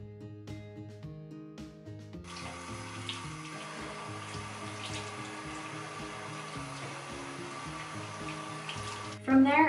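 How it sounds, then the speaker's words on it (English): Warm water running from a bathroom tap and splashing as a face is rinsed after cleansing, a steady close hiss that starts abruptly and continues evenly, preceded by soft background music. "I'm taking warm water here. I splash my face."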